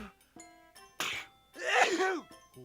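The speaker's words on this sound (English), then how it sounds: "He started sneezing all over again." A voice makes a strained, breathy buildup followed by a loud, bursting sneeze, with some harmonic vocal sounds before it, fairly close.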